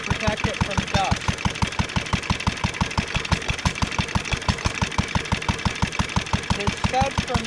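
A 1947 International Harvester Model LB throttle-governed engine runs steadily at idle, with loud, regular, evenly spaced firing beats close by.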